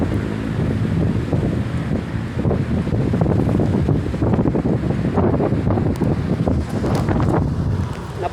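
Strong wind buffets the microphone steadily by Manila Bay near an anchored warship, a loud continuous roar with gusty rumbling and a faint wash of water and boat noise underneath, no talking.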